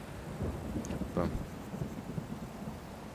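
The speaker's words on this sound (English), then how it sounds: "Not gonna lie, I enjoy it when it's stormy." A video-game thunderstorm rumbles faintly, with soft low thunder and a brief crackling burst amid quiet rain and wind ambience.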